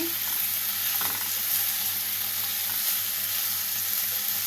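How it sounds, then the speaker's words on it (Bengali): Potato and papaya curry sizzles steadily in a pan while being stirred, a constant bright frying hiss with a few faint scraping strokes, close and without talk. "এবার নেড়ে ফেরে কষে নেব"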